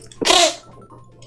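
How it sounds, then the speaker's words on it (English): One loud, abrupt sneeze from a livestream host, heard alone and close to the microphone, with a short breath just before it and quiet afterward. "had to sneeze right there"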